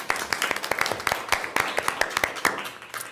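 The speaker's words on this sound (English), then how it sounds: "At least I got one clap tonight." A lone person claps at a school board work session, a brisk run of sharp, close hand claps in an uneven rhythm lasting a few seconds.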